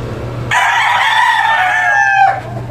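A bulik gamefowl rooster gives one loud, close crow lasting about two seconds, a strained drawn-out call over a low steady background hum, with no voices.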